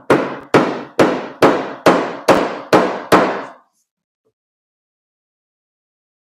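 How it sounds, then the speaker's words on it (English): A paintless dent repair (PDR) hammer strikes eight times in an even, quick rhythm while fenders are rolled on an MR6, each tap ringing briefly before fading, then silence. "This is a nice PDR hammer."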